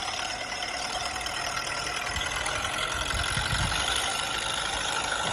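An Arjun 555 tractor pulling a heavy double-axle trailer load runs with a steady droning engine roar, continuous and fairly loud with no speech.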